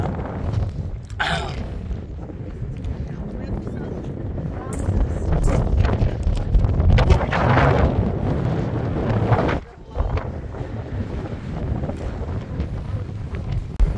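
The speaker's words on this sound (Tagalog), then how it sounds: "Tsaka mahangin, malamig." Steady wind buffets the microphone at Stonehenge, a rough continuous roar with gusts throughout and a brief lull near the end; cold, windy conditions.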